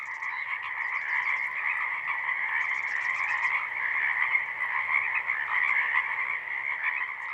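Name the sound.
evening frog chorus, Lewis and Clark National Historical Park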